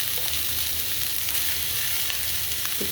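Vegetables fry in a pan for egg fried rice, a steady close sizzle with faint stirring scrapes, moderately quiet and continuous.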